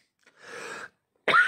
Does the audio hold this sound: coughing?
yes